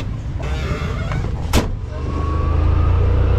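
A Yamaha quad engine runs on a small purpose-built circuit at Pont-de-Vaux, a steady low motor rumble that swells toward the end, with a brief whooshing sweep partway through.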